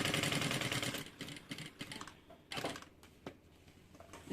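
A sewing machine runs a backstitch on a bag pocket, with a steady rapid mechanical patter for the first second, then shorter stop-start bursts of stitching separated by pauses.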